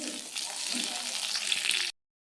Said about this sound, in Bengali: ডিমটা সুন্দর করে ভাজি করে নিব।